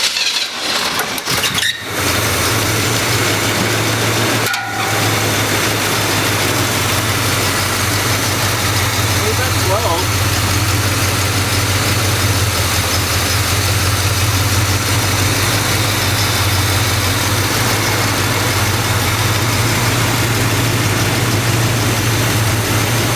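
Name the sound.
350 engine idling in a restored 1972 Chevrolet C10 truck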